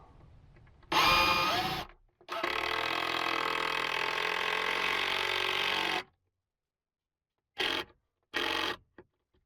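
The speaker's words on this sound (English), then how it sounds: "let's start anchoring this in and hope that I don't hit any of the other screws below" A power drill driving screws to anchor a closet base inside a van, with a short burst, then a sustained whirring run of several seconds, followed by two brief pulses, all close and loud.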